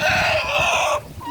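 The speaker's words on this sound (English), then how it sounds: "Drama of my chickens, hens and roosters" A hen or rooster calls out in one loud, close, drawn-out squawk that cuts off abruptly, leaving faint background sound.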